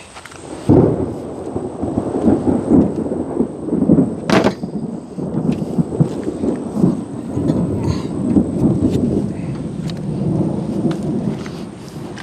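Thunder rolls and rumbles outside a workshop as rain approaches, with a sharp crack around the middle and long low rumbling swells, loud and close, with steady rain hiss underneath.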